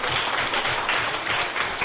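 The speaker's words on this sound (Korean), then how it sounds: "한번 큰 박수로 축하하겠습니다." A church congregation applauds together for newly baptized members, a dense, steady wash of clapping from many hands that stays even and close throughout.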